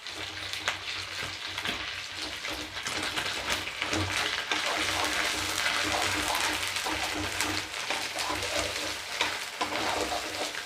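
Ginger garlic paste sizzling in a pan for egg fried rice, a steady crackling fry with spatula stirring throughout, close and moderately quiet, no talking.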